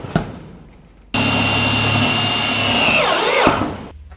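A power drill drives a 1/4-14 by 7/8 inch Lap Tech Zac screw through a metal roofing clip on standing seam panels, one loud steady whir of about two seconds that winds down at the end, no talking.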